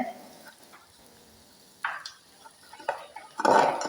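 Prawns being stirred into onions in a pan, with intermittent spoon scrapes and clinks that grow louder toward the end, close and alone.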